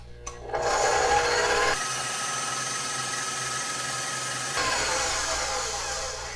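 An electric mixer whips egg whites on high speed, starting with a click, then a loud steady whine that shifts pitch partway through as the whites turn frothy.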